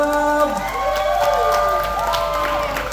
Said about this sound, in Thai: ขอเสียงปรบมือให้วัดพระใจสุพลด้วยครับ